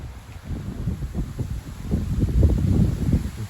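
A strong gust of wind blows in the first storm of the season in early September, a steady low roaring rush that swells louder toward the end, with no voices.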